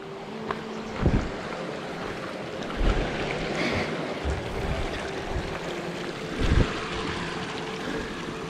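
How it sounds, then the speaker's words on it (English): Water flowing down off hillsides into a stream on a valley walk, a constant rushing wash in the open air with a few soft thumps and bumps over it. "Certainly a lot of water flowing down off the side of the hills."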